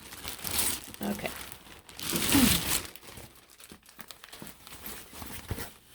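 Taped plastic packaging crinkles and rustles in close, uneven bursts as a Coach purchase is unwrapped, with a louder crumpling swell in the middle and someone speaking briefly.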